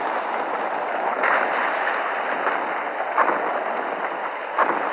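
Heavy rain pours steadily onto an old barn whose roof is partly gone, a dense, constant hiss close by with slightly louder gusts now and then and no voices.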